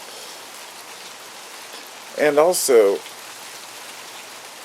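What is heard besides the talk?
rain falling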